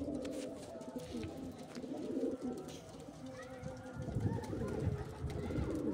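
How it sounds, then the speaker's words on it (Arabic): A collared dove coos softly in a low, repeated rhythm amid steady background noise and other birds. "هذا قمري."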